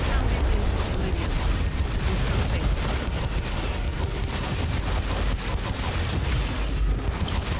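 Artillery explosions in the Warhammer 40K: Inquisitor - Martyr video game, a continuous dense barrage of booms and blasts layered over each other without pause.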